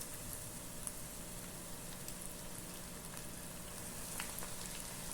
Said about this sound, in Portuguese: Vou fritar de 4 em 4, porque a minha panela é pequenininha.